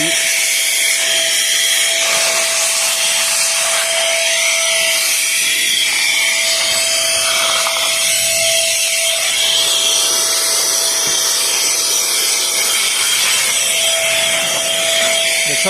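A KEIMI electric compressed air duster blows dirt out of a truck: a loud, continuous airy blast with a steady whine runs without a break, close to the listener, with faint scraping underneath.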